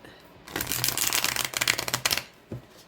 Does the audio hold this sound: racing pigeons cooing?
no